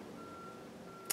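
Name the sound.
construction vehicle reversing beeps outside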